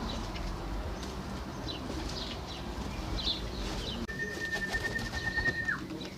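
Soft racing pigeon coos and calls scattered over a steady outdoor rumble in England, with a thin high whistle-like tone near the end.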